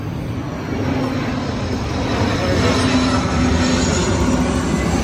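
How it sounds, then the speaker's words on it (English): An airplane passes overhead during a walk at Turkey Creek, a broad, loud engine roar with a faint steady drone that swells gradually over a few seconds. "look, there's a plane."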